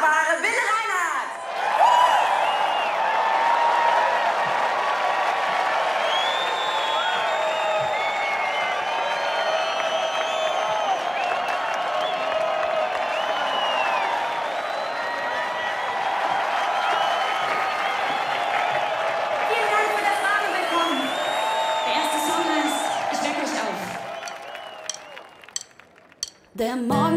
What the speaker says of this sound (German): bitte ich euch, sie mit einem riesen Applaus zu begrüßen